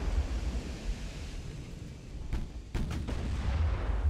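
Eight-inch naval guns firing in Ultimate Admiral: Dreadnoughts, a few distant muffled booms over a steady low rumble of sea and wind.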